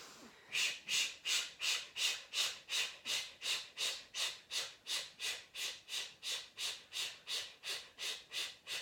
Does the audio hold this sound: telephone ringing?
no